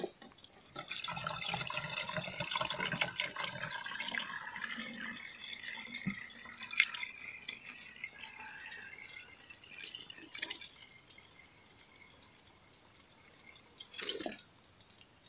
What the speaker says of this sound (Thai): จากนั้นเราก็เอาน้ำหมักชีวภาพใส่ลงไป